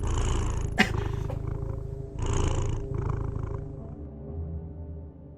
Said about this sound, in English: Is that what cats sound like? That sounded horrible.